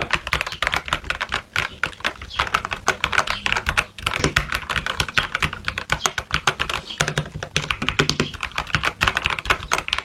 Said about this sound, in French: on va remettre les touches avec les switches directement sur le clavier, puis on va refaire un son de test